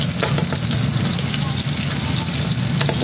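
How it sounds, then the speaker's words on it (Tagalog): Garlic, onion and ginger sautéing in a hot pan for Ilocano-style ginataang laing, a steady close sizzle and fry with faint stirring running throughout, no talking. "gigisa na natin yung bawang, sibuyas, tsaka luya"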